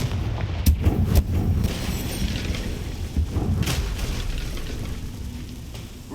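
A Confringo fire spell explodes in the video game Hogwarts Legacy, with several sharp booming blasts near the start and a later burst over a steady rumbling game background.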